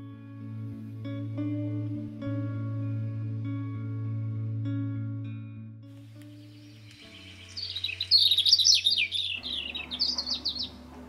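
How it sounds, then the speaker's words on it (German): A European robin sings a bright, high warbling phrase of rapid trills lasting a few seconds, heard after a stretch of sustained soft musical tones. "Und zwar handelt es sich um das Rotkehlchen."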